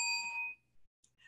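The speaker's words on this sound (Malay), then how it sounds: "Loceng dibunyikan sekali." A single bell is rung once during a traditional pantun-selling session. It gives one bright, ringing strike that fades over about half a second, followed by faint small sounds.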